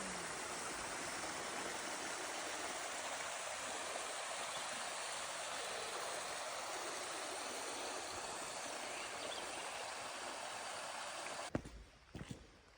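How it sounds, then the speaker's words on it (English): Steady rushing of creek water flowing continuously at Colorado Bend State Park, Texas, close and full, with a few brief bumps and handling noises near the end. "Yes, I hear the water again."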